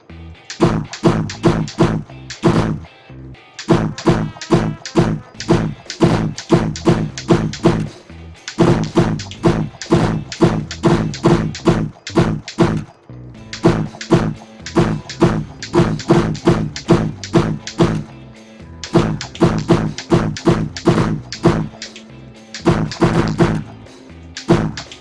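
Repeated clicks and snaps of a laser dry-fire training gun shot at targets, coming in rapid bursts of sharp trigger strikes separated by short pauses, loud and close with no talking.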